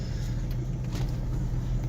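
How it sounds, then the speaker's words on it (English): A car engine runs strong but makes noise, with a steady, close, low rumble throughout and no pauses. "The engine runs strong. Transmission shifts good. It just makes noise."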